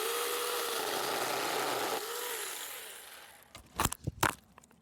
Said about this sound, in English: this is a 6-inch mini electric chainsaw by Tomy Vic